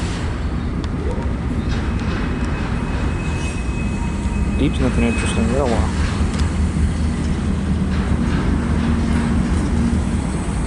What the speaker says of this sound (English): this loaded potash train heads over to the island